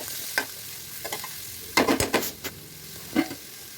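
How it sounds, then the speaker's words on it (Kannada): Vermicelli fries gently over a low flame, giving a faint, quiet sizzle, with a spoon stirring and scraping the pan in short bursts, strongest near the middle. "ಅದಕ್ಕೋಸ್ಕರ ಇಲ್ಲಿ ಚೆನ್ನಾಗಿ ಫ್ರೈ ಮಾಡ್ತಾಯಿದ್ದೀನಿ ನಾನು"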